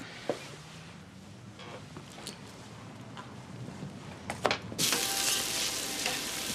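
Burgers frying in a pan in a home kitchen, a steady close sizzle with small scraping and stirring sounds, getting louder and brighter near the end.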